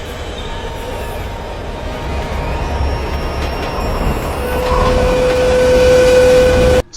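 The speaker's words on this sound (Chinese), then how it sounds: "司机路易斯幸好及时把地铁停了下来" A subway train rolls into a station and brakes, a loud, steady rumble building and then sharpening into a long, high metallic wheel squeal before cutting off abruptly.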